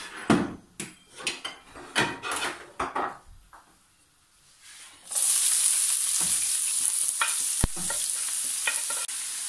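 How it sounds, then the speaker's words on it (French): Ground beef and vegetables go into olive oil in a frying pan: several sharp scraping knocks of a utensil against the pan come first, then a steady loud sizzle with a few more stirring clatters as the meat starts to fry. "dans la poêle je mets l'huile d'olive et on va enchaîner avec les légumes et le bœuf haché"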